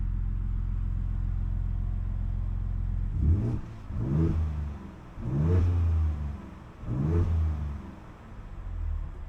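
A 2024 Ford Ranger Raptor in sport mode idles with a low steady rumble, then its engine revs in four rising and falling surges, loud and close, each swell deep and growling.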